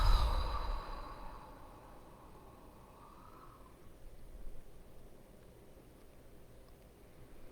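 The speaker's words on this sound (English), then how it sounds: "Big inhale in through the nose. And exhale out." A slow, deep breath exhaled after a nasal inhale during a guided relaxation, a soft airy sigh that starts strong and fades over several seconds into quiet.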